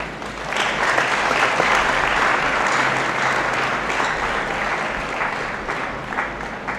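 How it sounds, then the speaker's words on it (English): Graduation ceremony crowd in a great hall claps for the parents, guardians and friends of the graduates, a broad, sustained round of applause from a large audience with little talk, easing gently near the end. "Let us recognize their contributions with a clap."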